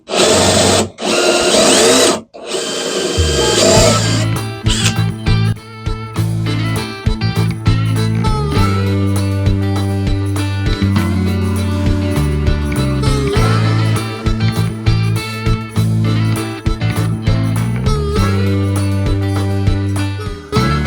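Power drill boring a hole through a model railroad layout for a Tortoise switch machine, a steady whirring, grinding tone running loud and close for about twenty seconds with brief pauses near the start.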